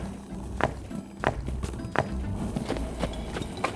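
Four horses walking in a line while pulling a loaded cart, hooves clopping in a slow, regular rhythm at moderate distance, with a low rumble of the cart underneath.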